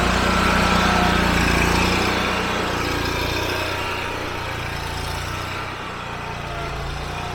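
A tractor engine runs steadily on a farm while being used to pull T-posts, a close, loud, continuous drone that eases slightly in level partway through, with no talking.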